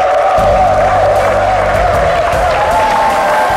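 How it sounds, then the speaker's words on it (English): A church congregation applauds its new pastor: dense, steady clapping spreads through the room under a sustained musical tone, even and continuous from start to finish. "Shall we all arise and give him a round of applause"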